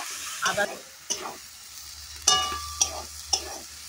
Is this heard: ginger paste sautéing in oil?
yes